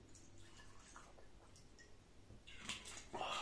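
Bacardi Carta Blanca white rum is poured into a glass. After quiet small clinks, a faint splashing trickle of liquid swells in the last second, with no voices.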